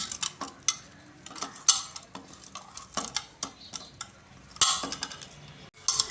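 Fish pieces are mixed by hand or spoon with a chilli, turmeric and salt marinade, producing a series of soft wet squelches and light scrapes against a bowl in an uneven rhythm, close up and without speech.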